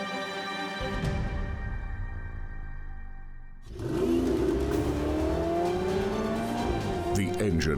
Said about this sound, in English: The engine plays in the back of the driver like a metallic orchestra.